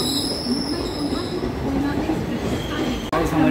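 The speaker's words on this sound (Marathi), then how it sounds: "हमारी ट्रेन निकल चुकी है दोस्तों. देख सकते हो प्लेटफॉर्म के बाहर हमारी ट्रेन निकल चुकी है." A passenger train pulls out of a platform on a Mumbai Dadar to Satara rail journey, steady rumbling wheel noise with a faint high squeal, close and continuous, one sharp break near the end.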